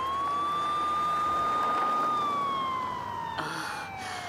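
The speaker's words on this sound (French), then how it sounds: "attention, une ambulance" An ambulance siren wails loudly in a steady rising and falling tone, then drops in pitch as it passes and fades slightly.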